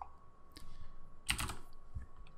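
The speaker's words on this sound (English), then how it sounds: "So we're gonna type in 12 days tilde two." Keystrokes on a computer keyboard, a few close, crisp clicks in a short burst, typing a folder name on a Windows desktop, with no voices.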